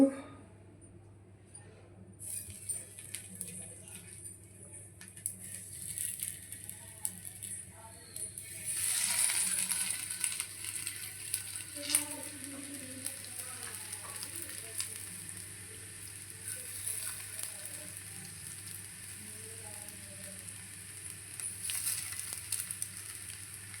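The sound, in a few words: kebabs frying in an oiled pan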